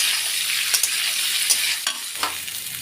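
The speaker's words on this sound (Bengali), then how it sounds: "ইঁচড়গুলো আমি ভেজে নিচ্ছি" Jackfruit pieces coated with salt and turmeric fry in hot oil, a loud close sizzle with several sharp spatula stirs and scrapes breaking through the continuous hiss.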